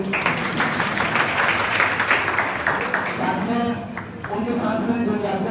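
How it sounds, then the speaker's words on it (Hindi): Audience applause at a Bihar home guard honour ceremony in Gopalganj: steady, dense clapping from a crowd, fairly loud and continuous throughout, with some voices mixed in. "उनके लिए सबसे पहले एक जोरदार ताली होना चाहिए"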